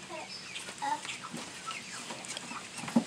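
Chicken clucking in short, scattered calls, fairly close, with one sharper squawk near the end and no talk over it.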